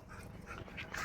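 A dog on a street gives faint, brief whimpering yips close by, soft and quick against light background noise.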